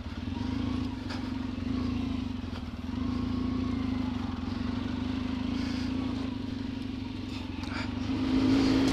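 Trail motorcycle engine idling and rumbling steadily while riding slowly through deep ruts off-road, a continuous low drone with light clatter, close and fairly loud, swelling slightly at the end.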